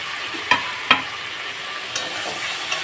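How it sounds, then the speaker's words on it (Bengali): Fried eggplant and potato tossed in masala in a pan, a soft steady sizzle with a few sharp spatula knocks at irregular intervals, close and moderately quiet. "বেগুন আলু ভালো করে এবারে কষে নেবে"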